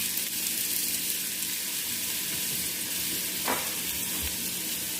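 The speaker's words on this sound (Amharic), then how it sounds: "ዘይትን ካደረኩ በኋላ በመቀጠል ሽንኩርቱን ያው ያዘጋጀሁት ሽንኩርቴን አስገባለሁ ማለት ነው።" Onions sizzle in hot oil in a pan, a steady broadband hiss of frying that holds evenly throughout, with a brief faint scrape partway through.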